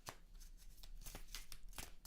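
Tarot cards are shuffled quietly up close, a quick series of soft riffling flicks and snaps.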